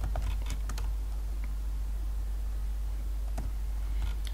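Soft, quick clicks of computer keys come in short irregular bursts as code is typed for an STM32 microcontroller, close and faint over a low steady hum.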